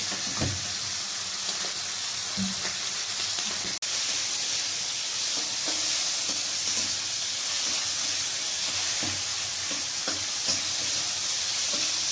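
Marinated shrimp fry in hot oil with black cumin seeds, a loud, continuous sizzle and hiss close by, with occasional stirring clicks and one sharp tap partway through.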